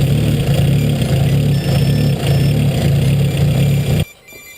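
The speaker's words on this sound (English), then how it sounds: "Ooh, listen to that turbo. That's just idle." A 650 hp twin scroll turbo Honda Civic idling up close, loud and steady with a low rumbling pulse and a faint turbo whine above, cutting off sharply near the end.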